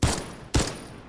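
Gunfire in the Fortnite video game: two loud, sharp bursts of shots about half a second apart, with a third starting at the end, each decaying quickly.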